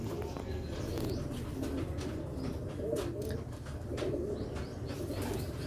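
Sialkoti black-faced pigeons coo in low, throaty, rolling bursts that repeat through the scene, set against constant background noise and scattered clicks and rustles.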